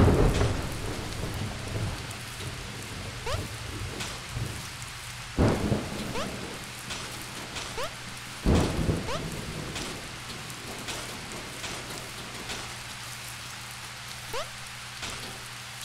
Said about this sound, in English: Wow, that thunder is really going to town.